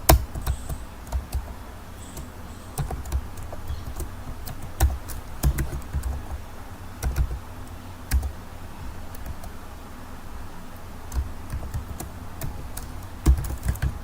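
A computer keyboard clatters as HTML code is typed into Notepad++. The keystrokes come in irregular bursts of close, crisp clicks over a quiet room background, with no voices.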